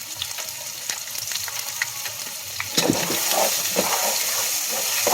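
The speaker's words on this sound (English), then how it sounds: "It's time to flip my patties." Beef patties sizzle and fry in a hot pan with garlic and onion powder, a steady close crackle that grows louder and busier partway through as they are turned over.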